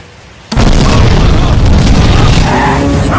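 A sudden loud explosion bursts in and roars on as a sustained, rumbling blast filling the rest of the clip.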